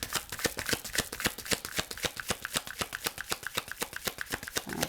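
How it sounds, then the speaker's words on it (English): A deck of cards is riffle-shuffled close by, a fast steady flutter of crisp ticks lasting several seconds with no talking. "but we'll shuffle."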